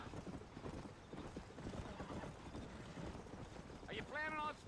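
A horse gallops in the cowboy video game Red Dead Redemption on mobile. Steady, quick hoofbeats clop through the clip, and a short whinny comes near the end.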